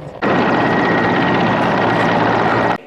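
An emergency-ministry rescue helicopter hovers over water during a training exercise, its rotor and engine roar starting abruptly and holding loud and steady throughout, close and continuous with a constant whine riding on top.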